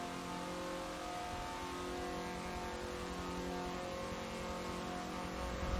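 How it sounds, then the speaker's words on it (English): Mazda MX-5 Miata race cars accelerate up a hill at Road America, their engines droning in a steady, strained rising note at a moderate distance. "these little Miatas struggling to accelerate up that hill"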